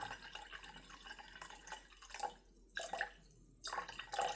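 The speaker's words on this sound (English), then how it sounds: "start out with 200 grams of water by slowly adding it to this jar" Water trickles slowly into a jar while being measured out for homemade ramen noodle dough, a thin, close-up drip and splash that pauses briefly twice before resuming.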